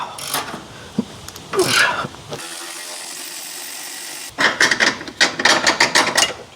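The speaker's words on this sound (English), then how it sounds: "Electric ratchet is always faster." Loosening an 18mm bolt during a PT Cruiser motor mount replacement, an electric ratchet whirs steadily for about two seconds between bursts of clanking metal and tool handling, close up.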